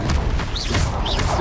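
A fire spell cast in Hogwarts Legacy lands as a loud, dense boom with crackling rumble, with magical whooshing sweeps layered over the burst.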